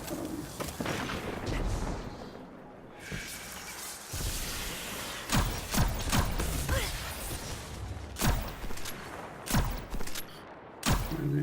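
Sharp gunshots from the game Destiny 2, played in Crucible matches, crack out one at a time over a dense rumbling game background.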